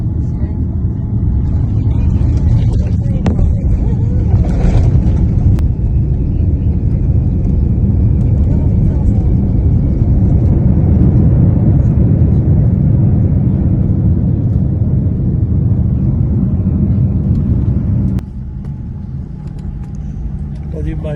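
An airliner lands at Heathrow Airport, London, after a six-hour flight from Philadelphia. A loud, continuous cabin rumble holds steady for most of the clip, then drops abruptly to a quieter hum near the end.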